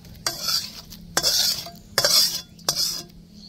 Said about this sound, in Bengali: খুব ভালো করে নাড়া দিয়ে নিব।